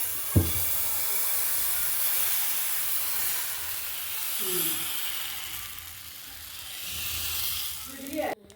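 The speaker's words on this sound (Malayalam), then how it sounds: "ദോശ ഒഴിക്കുമ്പോഴുള്ള സൗണ്ട് കേൾക്കാൻ എന്താ രസം" Steady loud hiss and sizzle of dosa batter on a hot griddle throughout, with a few brief clinks and scrapes near the start and end.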